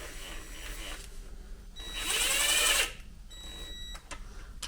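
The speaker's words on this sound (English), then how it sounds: "I've my impact gun set on its lowest set" Impact gun on its lowest setting runs down bolts on a tired Mazda MX-5, a single whirring burst of about one second in a quiet garage, with faint mechanical clicks around it.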